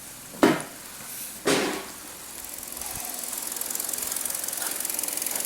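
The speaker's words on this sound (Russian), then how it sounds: "Ой, ну тут у нас хороший, добрый мотор" A Hyundai Sonata 2.0 engine running on LPG idles steadily in a workshop, a smooth even hum, with two sharp clanks near the start and no talk.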